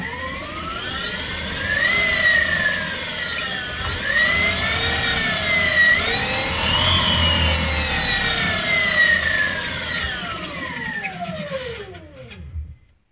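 A Renault Twizy's electric drive motor whines under throttle, its rising and falling tones climbing and sweeping up and down for several seconds before winding down to quiet, heard up close and alone.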